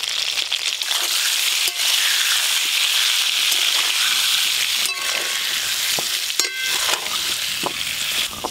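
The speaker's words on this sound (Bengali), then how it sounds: "চাপা দিয়ে দিয়ে আলুগুলো খুব ভালো করে ভাজবো।" Potatoes sizzle steadily in mustard oil in a pan while being pressed down, with a loud continuous fry broken by a few scraping, clattering utensil strokes.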